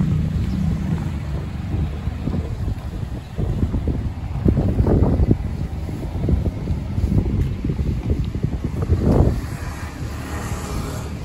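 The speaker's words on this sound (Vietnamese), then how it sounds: "gió thổi lạnh à." Cold winter wind buffets the microphone on the way to the beach at Kamakura, a steady loud roar with gusts rising and falling and no talk.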